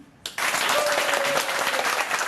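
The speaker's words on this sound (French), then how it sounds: "Pour l'instant, on va applaudir Monsieur Wilson Lee." An audience breaks into applause all at once, a dense, steady wash of clapping that holds at full strength for a couple of seconds in a crowded event room.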